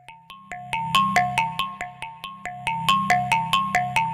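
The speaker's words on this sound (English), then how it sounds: "That's a really nice sounding distortion" A bright synthesized tone from the Zebra 3 synthesizer plays a rhythmic glitch-hop pattern of sharp, repeated plucky notes with a gritty, buzzy distortion edge, steady and close, with no voices.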